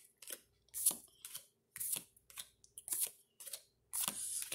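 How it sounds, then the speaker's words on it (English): Pokemon Forbidden Light booster packs being torn open and cards handled, giving a run of crisp, close foil crinkles and paper rustles in irregular bursts with short pauses between, no talking. "continue opening up these packs"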